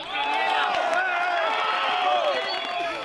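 A crowd cheers and shouts loudly as rescuers pull a woman from earthquake ruins in Colombia, with scattered clapping and excited voices blending into a continuous roar.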